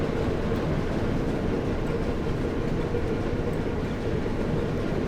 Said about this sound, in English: we can just see the train in the distance there